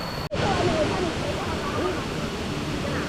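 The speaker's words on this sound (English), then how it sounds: "Beautiful waterfall, lots of nature" A waterfall in Laos roars as a steady broadband rush of falling water, loud and continuous after a brief dip at the start, with faint voices in the background.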